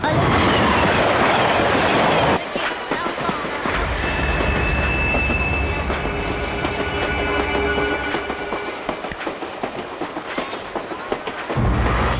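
A moving train rumbles and clatters loudly, wheels clacking in rhythm with faint metallic squeals, the roar easing briefly in the middle before returning.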